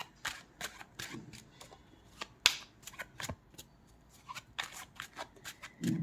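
Tarot cards are shuffled and drawn, giving crisp, close riffles, flicks and snaps in irregular bursts, with a soft thud near the end and no talking.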